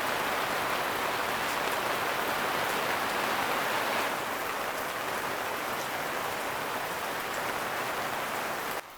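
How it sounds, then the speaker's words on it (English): Heavy rain pours steadily outdoors near an abandoned mower, a dense, loud, unbroken hiss that eases slightly partway through, with no voices. "I'm just going to let this rain ease off a bit."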